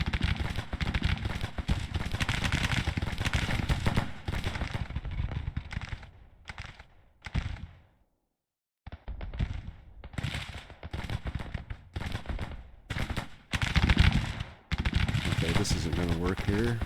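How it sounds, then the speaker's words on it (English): Artillery pieces fire in volleys during a Civil War battle in the strategy game Grand Tactician, a dense crackling barrage of gunfire with a brief lull midway before sustained firing resumes, loud and continuous. "Right, the guns are firing."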